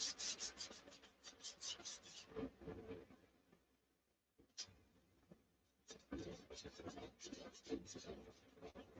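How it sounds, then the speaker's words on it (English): A wooden surface with a first coat of white paint is sanded by hand in rapid rhythmic rubbing strokes, close and fairly faint, with a brief pause before the scraping resumes. "I don't want to sand too much paint off of that."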